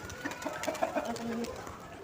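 Pigeons coo softly and chickens cluck at a feeding spot with scattered grain and rice, a few short calls repeating over quiet background noise.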